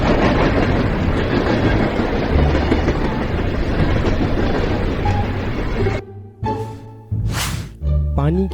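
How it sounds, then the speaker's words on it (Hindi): A train passes at a distance on a cold winter morning, a steady broadband rumble with wheel clatter for about six seconds before cutting to brief separate bursts and a rising whoosh. "सर्दी में सुबह दूर से आने वाली रेलगाड़ी की आवाज़ साफ सुनाई देती है"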